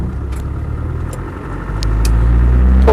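Land Rover 110 station wagon with a 200TDi diesel engine drones steadily from inside the cab while driving, then the rumble swells louder and deeper as it pulls harder under acceleration.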